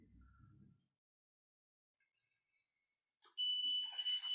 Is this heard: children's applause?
no